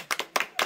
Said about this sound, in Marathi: टाळ्या आहे टाळ्या